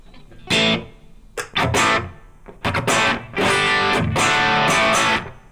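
An electric guitar plays dry with no delay or reverb effect, sounding in several loud, close strummed bursts separated by short pauses, with only a little natural room ambience.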